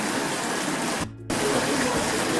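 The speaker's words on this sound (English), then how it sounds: "This is called the court of the water channel because of the water that runs down through the" Water runs along a channel through the middle of a royal palace courtyard built by Muhammad I, a steady, moderately loud rushing wash that cuts out for a moment before resuming.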